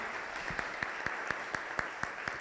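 Audience applause at a book presentation on the Eucharist, a steady wash of many hands clapping at moderate distance, with a few sharper individual claps standing out at a regular beat.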